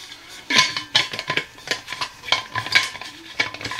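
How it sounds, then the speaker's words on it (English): A metal spoon scrapes and clinks repeatedly inside a wide-mouthed Primus stainless steel bottle, a close, bright run of quick uneven strokes with no talking. "spoon it out with the spoon."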